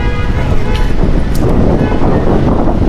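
Strong wind buffets the microphone outdoors at a plaza in Sa Pa, Vietnam, a loud, constant low roar with faint background noise.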